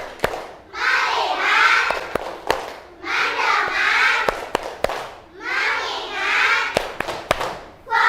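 A classroom group claps sharp, crisp beats in quick rhythmic clusters between chanted phrases, children's voices rising and falling in unison around the claps.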